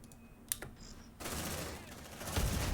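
Squad gunfire in the video game Aliens: Dark Descent. A few sharp clicks and a short electronic tone give way to a dense, sustained burst of automatic fire that lasts to the end, with no talking.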